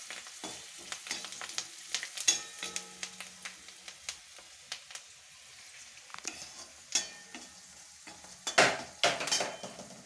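Food sizzles and fries in a pan with turmeric, with a soft, constant frying hiss broken by frequent clinks and scrapes of a spoon stirring against the pan.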